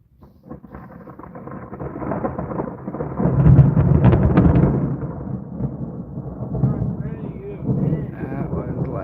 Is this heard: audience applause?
no